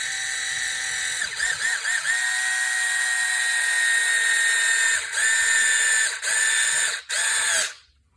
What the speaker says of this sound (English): hold the driver loose, the electric screwdriver loosely, so that as soon as it gets to the bottom, I don't strip anything